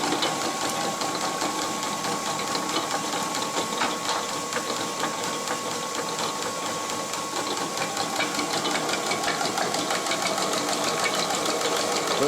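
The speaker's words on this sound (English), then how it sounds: "that damaged belt is making quite a racket" A damaged belt on the drive train of a Yates American B244 bandsaw clatters in a fast, continuous rattle over the steady whir of machinery, loud and close throughout, with no talking.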